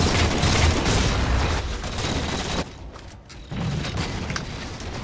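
A grenade blast in the Halo 4 multiplayer shooter, a loud rumbling boom that fills the scene and decays into a roaring wash with a second swell of noise, close and heavy.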